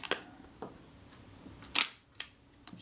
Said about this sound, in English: Shutter works.